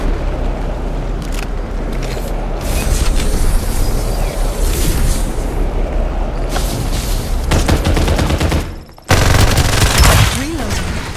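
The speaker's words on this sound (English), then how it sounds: "Let's fire on them." Loud, nearly continuous automatic gunfire in the shooter game Farlight 84 rattles through in long bursts, with booming impacts, a brief drop near the end and game voice lines cutting in.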